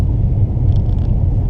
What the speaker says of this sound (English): There you go, crossing the train tracks